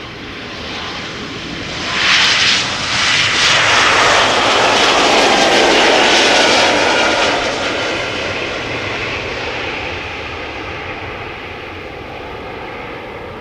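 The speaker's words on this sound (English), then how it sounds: "This is the E2 Embraer 195 to Copenhagen." KLM Embraer E2 195 jet at Amsterdam Schiphol Airport, a loud, steady engine roar that swells and holds for several seconds, then slowly eases as the aircraft passes.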